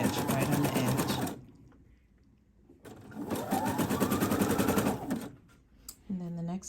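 A sewing machine stitches along the edge of a panty in two sustained, fast, rhythmic runs separated by a short pause, with a voice talking nearby.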